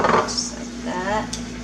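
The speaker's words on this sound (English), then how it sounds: "Stir until all the sugar are dissolved." A utensil scrapes and clinks against a bowl while sugar is stirred into black sauce for a sweet salad, with irregular close knocks and scraping, no speech.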